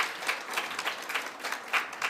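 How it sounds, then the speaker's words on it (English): Colleagues at an African languages association conference in Durban applaud a professor, a brief, close burst of steady clapping with scattered sharper claps. "Let's give Prof Mkhize a big round of applause"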